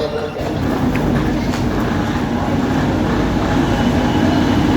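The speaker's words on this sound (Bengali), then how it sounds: "আমাদের ট্রেন ঢুকছে বালেশ্বর স্টেশনে" An express train enters Balasore station, rumbling loudly and steadily close by, a continuous heavy roar of rolling wheels with faint squeals on top.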